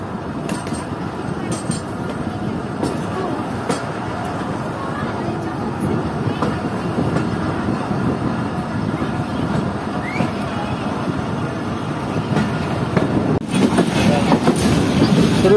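The Mohen Jo Daro Express rolls along the rails on Pakistan's Main Line 2 between Kotri and Rohri, a continuous loud rumble with wheel clatter, heard from inside the carriage over a long stretch.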